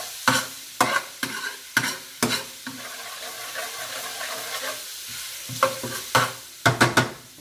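Whole spices, garlic and ginger sizzle in hot oil for a Madras curry while a spoon stirs the pan, giving repeated loud scraping strokes over a steady frying hiss, no voices.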